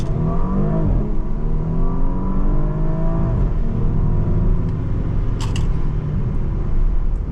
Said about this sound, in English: Definitely some good burbles, some good feedback, and a little bit of good sound from the exhaust.